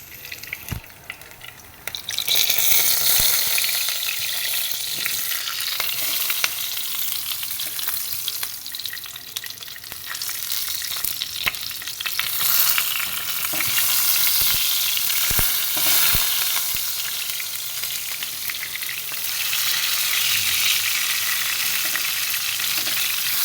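Cauliflower and potatoes sizzle and crackle loudly in a hot pan, with occasional stirring clatters; no talking.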